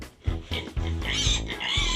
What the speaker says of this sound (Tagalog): Nandito naman po tayo sa mga alagang baboy para magpakain